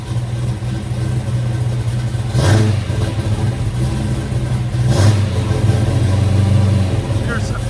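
1969 Yenko Camaro with a 427 V8 fitted with headers and a Flowmaster 40 Series exhaust: a loud, deep rumbling idle near the microphone with two brief rev blips, steady throughout.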